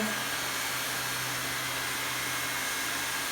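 Hot air welder fitted with a universal turbo nozzle, heat welding vinyl sheet flooring, blows a steady, even, hissing rush of air like a hair dryer, continuous and unbroken throughout.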